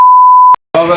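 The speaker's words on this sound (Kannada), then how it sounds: "ಬೈದಿದ್ದಕ್ಕೆ ಬೀಪ್ ಹಾಕ್ತೇನೆ" A loud, steady censor beep holds for about half a second, then cuts out, and a burst of speech follows right after it.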